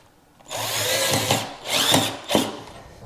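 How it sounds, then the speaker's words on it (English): Power drill driving Kreg pocket screws into wood for basement built-ins, three close whirring bursts rising and stopping, the last one short. "I'll be using these Kreg screws to put it all together."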